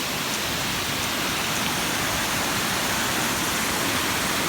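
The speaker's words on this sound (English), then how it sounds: "The water has breached the culvert across the street. It's roaring." A flooded county creek breaching a culvert across a street, a loud, continuous, dense roar of rushing water that fills the whole clip without pause and without talk.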